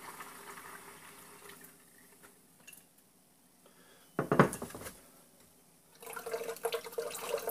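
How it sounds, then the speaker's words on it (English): Home-brewed kombucha is poured through a chinois strainer, a quiet creak and trickle giving way to a brief splashing pour and then a louder stream of liquid filling a vessel. "So just pouring it through that chinois, and it's going to filter a lot of that debris for me."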